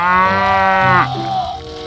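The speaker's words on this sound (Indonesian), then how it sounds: "Wah, ini ada sapi mo." A cow on a farm full of animals gives a loud, long, drawn-out moo close by, slowly falling in pitch and fading at the end.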